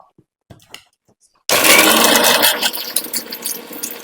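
After a few soft clicks, an electric grinder roars to life, blending cumin, garlic, green chili and pepper with a little water into a spice paste, a loud continuous whirring grind.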